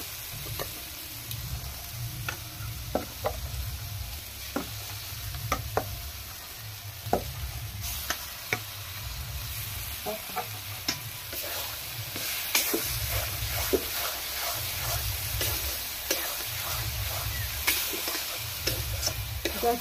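Ground mango paste fries in spiced oil for Bengali aam kasundi, a steady low sizzle broken by repeated sharp scrapes and clacks of a spoon stirring against the pan, close and rhythmic, growing busier toward the end.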